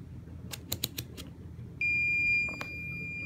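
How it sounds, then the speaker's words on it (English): Close clicks from probes touching a fuse in a 1967 Geloso G1020 are followed by a multimeter's continuity check, a single steady high-pitched electronic beep that holds for over a second, quiet and with no talking. "if I am checking for continuity between either sides of this fuse"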